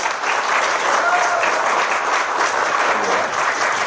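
Applause from a theater audience after a play at a theater festival, dense and steady clapping that fills the whole stretch, loud and close.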